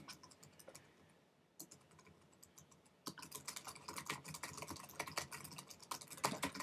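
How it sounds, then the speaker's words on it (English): Typing a paragraph on a computer keyboard, a quiet run of rapid clicking keystrokes that grows busier and denser halfway through, close and alone. "just type a whole paragraph and all that stuff"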